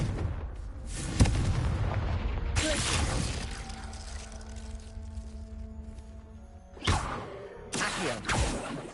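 An explosive spell goes off in a Harry Potter video game, with several booming bursts separated by a lull holding a sustained tonal hum, and the blasts cluster toward the end.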